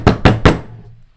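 Three sharp, loud knocks in quick succession imitate engine knock on pump gas, each rap ringing out briefly before the last one fades into quiet.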